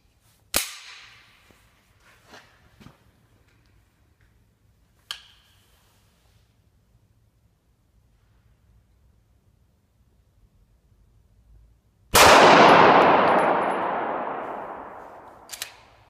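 Glock 17 pistol firing 115 grain FMJ 9mm rounds into a bulletproof vest during a live test: a sharp report near the start, a softer pop around five seconds, then a loud close blast at twelve seconds with a long ringing decay.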